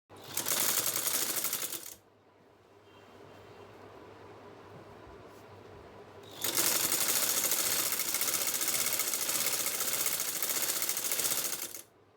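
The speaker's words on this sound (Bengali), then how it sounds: "আমি সেই মুড়িটা সেলাই করব" A sewing machine stitches the hem of a four-piece kameez with falsa lining, running in two loud, steady bursts with a quieter pause between them and no talking.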